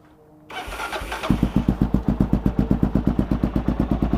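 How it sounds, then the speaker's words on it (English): A cold Kawasaki KLR650 motorcycle starts without choke: a brief cranking whir, then the single-cylinder engine catches and settles into a loud, steady, close-up thumping idle. "this bike, I'll show you how easy it is to start. We are completely cold."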